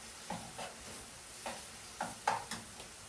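Eggs frying in oil with tomato paste in a pan on a home stove, stirred with a spoon: several soft scraping strokes over a faint steady sizzle, close and quiet, with no talking.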